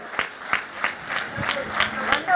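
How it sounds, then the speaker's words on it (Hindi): Applause at a Lucknow cultural talk, with regular rhythmic claps over a background of speech and crowd murmur, moderately loud. "जोरदार बजाइए तालियां"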